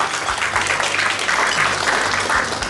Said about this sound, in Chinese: 请大家给大家一个热烈的掌声